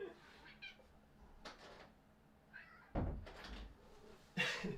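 A door opens indoors with a couple of thudding knocks and rattles at moderate volume against a quiet room, with faint vocal sounds nearby.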